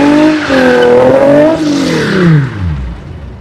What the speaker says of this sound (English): we were doing some drifting and some burnouts